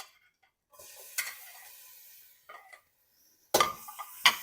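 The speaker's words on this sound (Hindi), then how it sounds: "चम्मच चला लूंगी और लहसुन अदरक का कच्चापन खत्म हो जाने तक ऑयल में पका लूंगी" Garlic, ginger and chopped green chilli sizzle in hot oil while a spoon stirs and scrapes the pan in short bursts, with two sharp clinks near the end.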